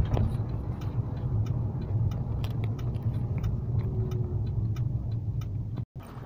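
Car driving on a road, a steady medium engine and tyre rumble with faint ticking, heard from inside at moderate loudness before cutting off abruptly near the end.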